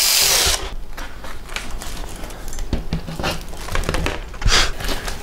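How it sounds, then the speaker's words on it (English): A power drill bores holes into a flange for a light-show color wheel, heard as a sharp whirring burst at the start, then intermittent clicks, clatters and handling knocks, with another brief whir near the end. "we're going to drill holes over here so then we can attach these screws to it."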